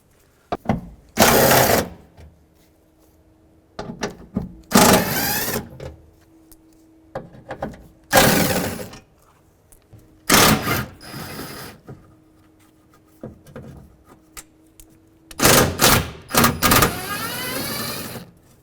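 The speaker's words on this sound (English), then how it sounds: "We're going to start by removing our 2 10mm bolts up top" Two 10mm bolts being loosened from the window regulator inside the front door of a 2007-2013 Acura MDX, heard as several loud, separate bursts of ratcheting and wrench whirring with quiet gaps between them, no talk.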